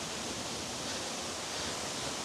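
A waterfall at a touristic spot in Thailand roars as a steady, dense rush of falling water, broad and unbroken throughout, with no voices.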